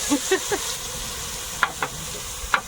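Koi fish frying in a little oil in a wok, a steady close hiss and sizzle with scattered light clinks and scrapes of stirring.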